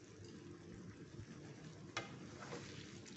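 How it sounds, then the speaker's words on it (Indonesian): Pieces of fried tempeh and tofu sizzle and crackle steadily in a pan, a continuous frying hiss with a brief stirring scrape midway. "Lalu kita masukkan potongan tempe dan tahu gorengnya."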